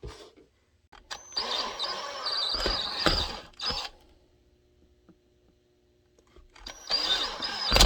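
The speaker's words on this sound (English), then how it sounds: "you're going to use that one to drill these two." A power drill whines in two bursts of several seconds each, drilling holes in vacuum-formed plastic model parts, separated by a quiet pause, close up with some rattling between.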